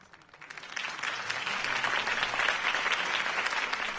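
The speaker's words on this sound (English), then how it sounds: "If only Mr. Wayne, my campaign's largest backer, could have heard that applause" Crowd applause at a political campaign rally in a Batman video game cutscene, swelling in after a quiet start into steady, dense clapping from a large audience that continues to the end.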